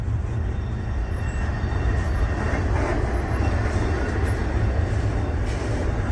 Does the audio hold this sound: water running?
no